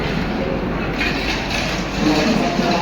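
Karmali–Mumbai Tejas Express at Dadar station, a steady rumble of rail cars with a brief clickety-clack and a faint wheel squeal, loud and unbroken.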